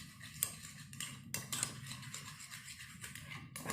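Shampoo being stirred in a bowl to make slime, a spoon scraping and clinking against the bowl's sides in repeated close strokes, with a few sharper taps.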